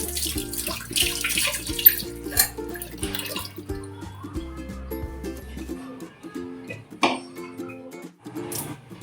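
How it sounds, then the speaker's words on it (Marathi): Cold water is poured over boiled eggs in a pot, sounding as a close splashing trickle with tonal clanks of the vessel, then quieter drips and rattles near the end. "अंड्यातलं गरम पाणी काढून त्याच्यात थोडं थंड पाणी टाकूया"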